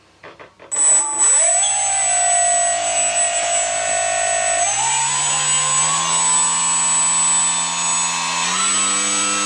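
Harbor Freight RC P51 Mustang model plane's electric motor spooling up from silence to a loud, high, steady whine at half throttle, its pitch stepping up in two clear jumps, close by with no talking.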